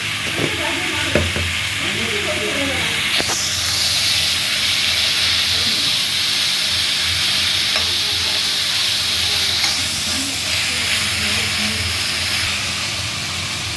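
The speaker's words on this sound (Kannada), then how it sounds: "ಇವಾಗ ಇದು ಮಸಾಲೆ ಹುರಿದಾಗಿದೆ" Masala with tomato and salt frying in a pan for a mushroom kadai curry, a steady close sizzle and hiss with occasional stirring scrapes, continuous and fairly loud without talk.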